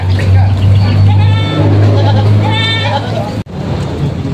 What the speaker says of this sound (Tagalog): marami siya ditong kambing na mga alaga